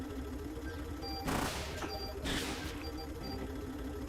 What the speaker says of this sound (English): it seems like I'm shooting a lot faster than I was on the previous floors